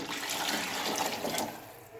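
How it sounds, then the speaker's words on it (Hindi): A steady stream of water pours and splashes into a cooking pot close up for a couple of seconds, a continuous gushing rush with no talking. "उसी से हम पानी डालेंगे"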